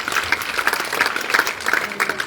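Audience applause at a gospel centre event, a dense patter of claps filling the room at steady loudness for a couple of seconds with no clear talk over it.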